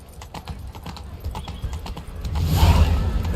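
A horse gallops in The Witcher 3 with a quick, steady clip-clop of hooves that swells into a louder rushing burst near the end, heard alone with no voices.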